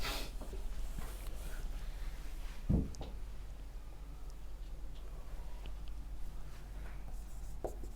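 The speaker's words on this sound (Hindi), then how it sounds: "तो चलिए मैं क्वेश्चन को ही इंग्लिश में भी लिख देता हूं।" Soft scratching and tapping of a marker or chalk writing a reasoning question on a board, faint and steady over low room hum, with one brief louder knock partway through.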